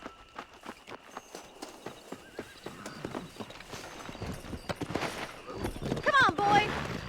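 A horse in Red Dead Redemption clip-clops along at a quickening pace, close hoofbeats building to a gallop with a whinny near the end, under a voice.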